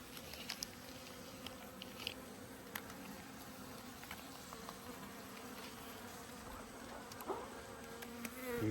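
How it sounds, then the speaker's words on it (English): Honeybees buzzing around an opened hive during a beekeeper's inspection, a faint, steady, droning hum with small scattered ticks and knocks. "You can see the bees are a little bit peeved with me for getting in there."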